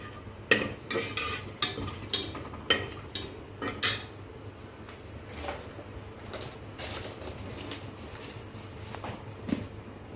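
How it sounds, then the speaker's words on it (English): A utensil stirs masala with star anise in hot oil for chicken biryani, making a run of sharp scraping clicks at first, then sparser taps over a soft continuous sizzle. "Just give it a quick stir. Let the oil absorb all the flavors of the masala."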